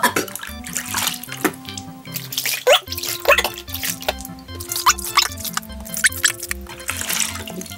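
Water splashes and runs from a tap while someone washes, with drips and wet splatters in uneven bursts, heard close under steady background music.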